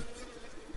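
Honey bees buzz in a faint, steady drone, with many insects humming together close by in a winter cluster.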